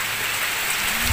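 Heavy rain pours in a dense, even hiss of drops striking surfaces, loud and constant throughout with no voices.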